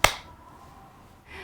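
A single sharp hand clap made in front of the face, loud and close at the very start, followed by quiet room tone.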